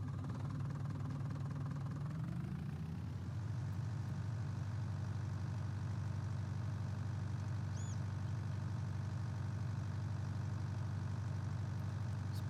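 A tractor engine idles in Farming Simulator 2019, its pitch settling lower after a few seconds into a steady, faint, droning hum that runs on without a break.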